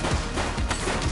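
Gunfire in the police video game The Precinct, with a few loud, close shots cracking in quick succession over busy background noise.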